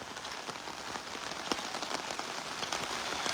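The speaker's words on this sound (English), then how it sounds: "this is the rainy morning here, Monday morning in East Coast Berbice" Steady rain pours down on a Monday morning in New Amsterdam, East Coast Berbice, a dense continuous hiss with scattered nearby drips and patters striking surfaces, no voices.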